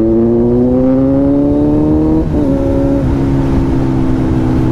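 A Kawasaki Z900 superbike with its stock exhaust runs at a steady, loud engine drone that dips briefly midway as the revs shift, heard close and alone.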